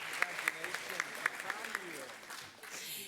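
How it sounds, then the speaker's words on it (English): Applause from an audience greets an award recipient at a school district's student-of-the-month recognition, a steady clatter of hands with sharper claps standing out, mixed with a voice, fading slightly toward the end. "please give a huge round of applause for Miss Julie Salas"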